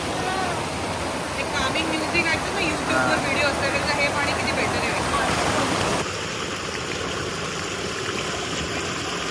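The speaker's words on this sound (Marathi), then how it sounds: "पाण्याचा आवाज नुसता ऐकत राहिला तरी बरं वाटतं ना" Steady rushing water roars loudly like a nearby waterfall or stream, with people's voices briefly heard over it before the sound quiets slightly.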